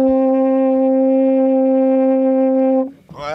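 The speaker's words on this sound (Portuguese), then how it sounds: "Bom, vamos ver aqui a trompa." A French horn in a town-square band holds one long, loud, steady note for nearly three seconds, rich in harmonics, before it cuts off and a short burst of other tones follows.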